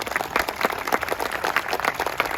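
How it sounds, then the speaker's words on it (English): A parkrun crowd gathered for the run briefing claps for the volunteers, a short burst of loose, uneven handclaps at moderate distance. "let's have a massive round of applause for our volunteers today"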